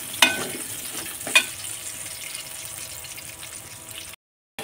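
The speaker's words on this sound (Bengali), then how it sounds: "বেগুনগুলো আমি এখন ভেজে নেব।" Eggplant frying in hot oil in a pan, a steady low sizzle with two brief sharp clatters near the start, then a short gap of silence near the end.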